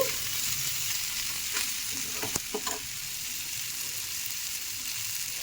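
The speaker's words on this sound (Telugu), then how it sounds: "అటు ఇటు కాస్త ఒక్కొక్క టూ మినిట్స్ అయినా గ్యాప్ ఇస్తూ ఫ్లిప్ చేసుకుంటూ ఫ్రై చేసుకోవాలి" Fish fries in hot oil in a pan, a steady continuous sizzle with a few brief crackles and pops near the middle, close and alone with no talking.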